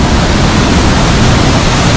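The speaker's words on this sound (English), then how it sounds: "we made it onto this bridge on the bottom of the waterfall" Pailón del Diablo waterfall in Baños, Ecuador, heard from a bridge at its base: a loud, dense, continuous roar of crashing water filling everything, with no other sounds.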